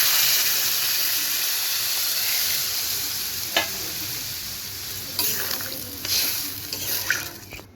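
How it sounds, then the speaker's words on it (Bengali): Water poured onto fried potatoes and spice mix in a hot pan bursts into loud hissing steam and sizzle, then settles while the pan is stirred with a few sharp scrapes. "আলু মশলা ভাজা হয়ে গেছে, এখন জল দিয়ে দিচ্ছি।"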